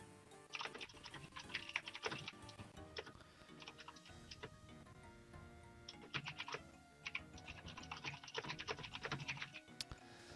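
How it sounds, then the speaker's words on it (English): Someone types on a computer keyboard in the background, bursts of quick clicking keystrokes separated by short pauses, fairly faint and close, with no talking. "you can hear him typing in the background."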